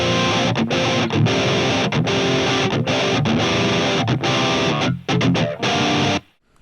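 Electric guitar reamped through a 6505 amplifier with heavy distortion, playing loud, chugging riffs broken by short stops, then ending abruptly into near silence.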